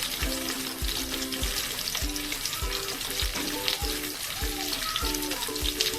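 Large cut onions and capsicum fry in hot oil for chilli soyabean, giving a steady close sizzle with rhythmic clanks of a spatula stirring the pan.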